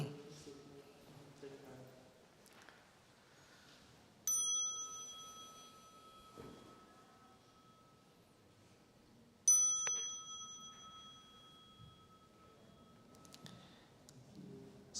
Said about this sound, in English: So with the next sound, the small bell, we'll stand up and join our palms.